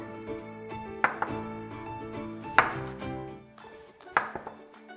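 A knife cuts potatoes into thick slices on a cutting board while an Italian baked sea bass dish is prepared, giving three or four sharp, distinct chops over a faint resonant background.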